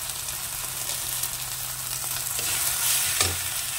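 Sugar and chili powder frying in curry masala in a pan, a steady close sizzle with occasional stirring scrapes, loudest near the end and with no talking.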